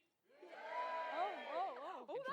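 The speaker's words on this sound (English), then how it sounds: "give me a cheer for honeybee" Live audience at a nature show cheering for honeybees, a broad sustained burst of voices with whoops and warbling calls lasting a couple of seconds, loud and close.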